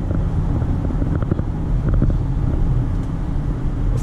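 A Toyota Camry LE with a 2.5L four-cylinder engine accelerates, its low engine drone heard from inside the cabin under steady road and wind rumble, loud and even throughout.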